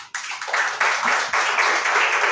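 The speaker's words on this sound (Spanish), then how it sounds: "Démosle un aplauso al Señor" Applause from a church congregation during a Spanish-language devotional service, a dense wash of many hands clapping that swells after a brief gap and holds steady at moderate loudness, with some voices mixed in.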